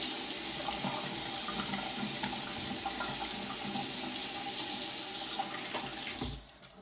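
Tap water runs steadily into a sink, rinsing off citrus shaving soap, a loud constant splashing hiss that thins out and fades near the end.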